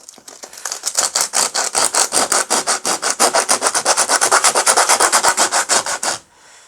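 Hand sanding with coarse 40-grit sandpaper, a fast steady run of rasping back-and-forth strokes, close and loud, about six per second, stopping abruptly near the end with no talk.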